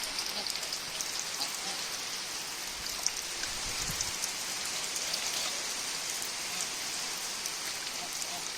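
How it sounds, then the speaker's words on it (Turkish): Steady autumn rain falls nearby on a farm in a dense, even hiss of drops pattering on surfaces, continuous throughout with no voices. "Yağmurlar başladı. Sonbahar yüzünü gösterdi arkadaşlar."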